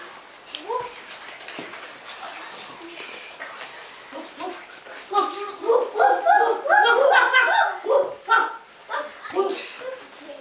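A small yellow Mongolian dog cries with whimpering yelps, sparse at first, then a cluster of louder, close whines and yips midway, fading toward the end, with a voice speaking at times.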